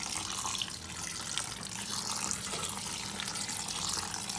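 Kitchen tap water runs steadily into a sink for washing while cooking, a loud continuous close-up splashing rush with no pauses.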